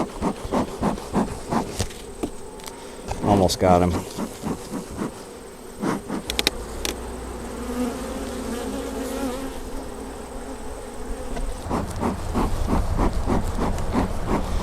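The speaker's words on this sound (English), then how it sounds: "There are some yellow jackets buzzing around here too." Yellow jackets buzz around a beehive that is being inspected, with close, wavering whines passing near and away against a steady hum. A person speaks briefly, and a few sharp knocks and handling sounds can be heard.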